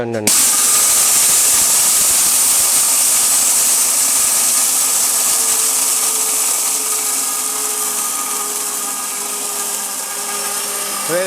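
A high-power ORPAT blender grinds ginger-garlic paste, a loud, steady motor whine starting abruptly and running continuously, slightly easing in pitch and level toward the end.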